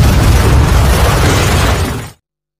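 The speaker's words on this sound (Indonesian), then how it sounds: "ledakan itu tayal menghabisi James beserta orang-orangnya." A loud, sustained roaring blast from a car bomb that fills the air for about two seconds, then cuts off abruptly into silence.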